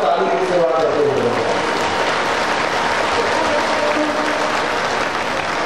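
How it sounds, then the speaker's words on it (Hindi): Audience at a Hindu devotional Shiva Purana discourse clapping steadily with both hands, a dense continuous wash of applause mixed with a sung voice and music at the start. "अभी आपके तरफ दोनों हाथ जोड़कर ताली की सेवा करते हुए"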